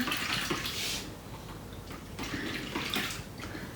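Running water from a tap pours steadily while dishes are washed in a home kitchen sink, a continuous close splashing hiss with brief swells and no talk.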